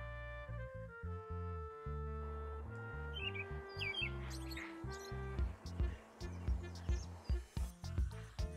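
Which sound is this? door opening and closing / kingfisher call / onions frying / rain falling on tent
kingfisher call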